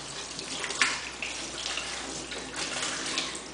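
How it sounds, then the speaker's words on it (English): Warm water runs steadily from a tap over a hookah ashtray as it is rinsed, a continuous splashing hiss with a brief brighter spatter near the start. "Shake the ashes out of it. Also rinse it with warm water."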